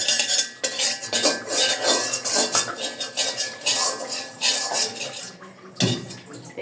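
Semolina frying in ghee is stirred in a pan, giving rapid, busy scraping and clinking of a metal spoon against the pan, fairly close and steady throughout with a brief pause near the end.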